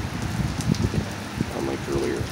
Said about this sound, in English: Heavy rain shower when the thunderstorm was always good.